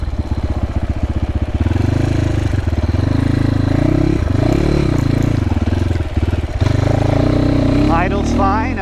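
A GPX FSE300R single-cylinder motorcycle with Delphi EFI idles steadily just after starting, a close, even putter throughout, while someone talks over it.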